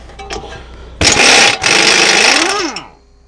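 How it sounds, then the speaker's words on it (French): A pneumatic impact wrench hammers loudly for about two seconds, briefly pausing mid-burst, while loosening a steering ball-joint nut on a Chrysler 300C during a brake disc and pad job, then winds down with a falling whine. "À la clé à choc, ça doit s'enlever."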